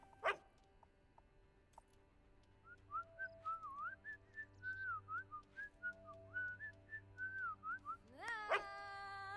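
A character in the video game Fable 2 whistles a wavering, bouncy tune of many short notes over a soft steady background hum, ending with a quick rising whistle and a sharp click.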